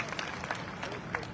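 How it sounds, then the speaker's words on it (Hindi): Applause at a product training seminar for an older woman sharing her health results, a faint, distant patter of claps from a crowd with voices mixed in. "ताली बजाओ मैडम के लिए भाई"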